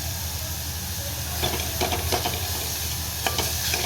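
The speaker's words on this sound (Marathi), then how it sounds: "जरा परतू देते जर तेल सुटेपर्यंत परत ते" Spices with coconut, coriander and ginger-garlic paste fry in oil in a pan for Maggi, a loud continuous hiss with intermittent stirring scrapes and clicks.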